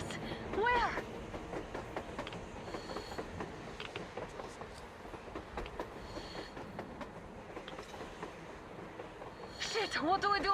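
A train runs on the surface in the video game Metro Exodus, a steady rattling rumble with clicking wheel sounds throughout, while a voice speaks with excited tones over it.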